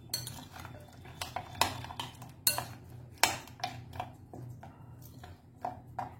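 A spoon knocks and scrapes against a bowl while ingredients are mixed with mustard oil, giving a series of sharp clinks and taps in uneven rhythm, close and fairly quiet.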